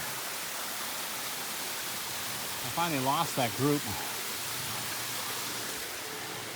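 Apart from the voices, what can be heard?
waterfall at Ka'au Crater, Hawaii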